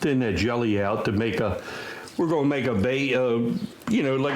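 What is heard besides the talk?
No everyday noise stands out behind the speech.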